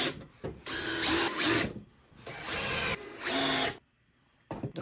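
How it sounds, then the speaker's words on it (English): A power drill drives a screw into a table saw base in several loud whirring bursts, each a second or so long, separated by short pauses, with no talking. "Let's go ahead and get the screw started."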